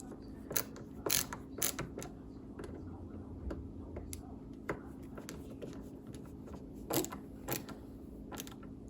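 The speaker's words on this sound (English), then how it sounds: "I say go halfway on the top screw and then do the same on the bottom." Screws on a TV wall mount being tightened by hand give quiet, irregular ratcheting ticks and creaks, with occasional sharper clicks over a low steady hum.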